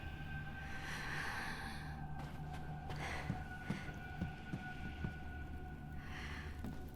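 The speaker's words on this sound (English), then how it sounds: "They're making her breathing weirdly loud right now." Rose breathes loudly in Resident Evil Village, slow heavy breaths, sighs and snorts over a low hum, with faint soft taps scattered through.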